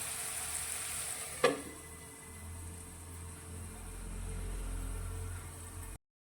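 Tomatoes cook under a lid in a pan over a medium gas flame, giving a steady soft sizzle and hiss with a brief clatter early on, then a low rumbling hum beneath the frying.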